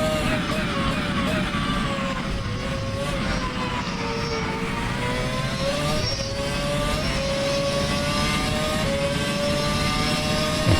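Formula One car engines from a racing video game at the Circuit de la Sarthe, Le Mans, in a pack of 32 cars, roaring continuously at high revs with rising and falling pitch through gear changes, loud and close.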